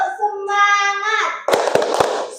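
A primary school class performs the rhythmic 'tepuk semangat' clap, three sharp, loud claps in even rhythm following a teacher's sung or spoken lead-in.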